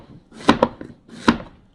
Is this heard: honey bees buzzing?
no